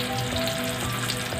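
Ginger garlic paste and tomatoes sizzle steadily in hot oil in a pan, frying for fish katakat, a soft continuous crackle at close range with no talk.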